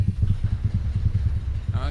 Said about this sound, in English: So I want everybody to bang on your tables again.